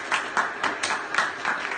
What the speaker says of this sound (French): On peut encore l'applaudir, s'il vous plaît.